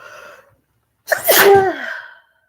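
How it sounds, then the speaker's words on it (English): A single loud human sneeze bursts out in a quiet indoor setting, preceded by a brief soft intake of breath, then a sharp explosive release trailing off over about a second. "I don't know why I'm sneezing because I'm not sick really"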